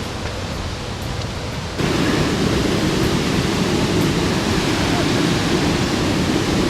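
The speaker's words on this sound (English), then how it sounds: "The roar of the river, well, the stream gushing down is quite dramatic" A mountain stream on Cadair Idris in Snowdonia gushes down the slope with a steady broadband roar, growing suddenly louder and closer partway through and then holding a dense, unbroken rush.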